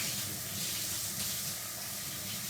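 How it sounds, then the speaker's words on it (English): Water runs from a kitchen tap during hand washing, a steady close hiss and splash that stays constant and soft for the whole stretch with no talk. "let me wash my hands really quickly"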